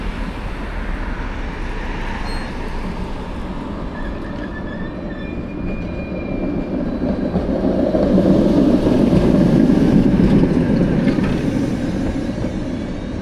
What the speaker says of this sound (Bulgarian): Трамвай номер 10 на вашето внимание.